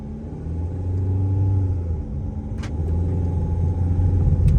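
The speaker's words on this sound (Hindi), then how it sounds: "अगर मैं शांत हो जाऊं, कुछ ना बोलूं इसके अंदर, तो इंजन नॉइज देखो भाई कितनी आती है" A steady low engine drone fills a Mahindra SUV cabin, rising and falling slightly with a faint road hum, and no one speaks.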